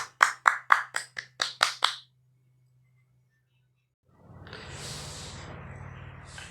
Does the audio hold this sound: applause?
yes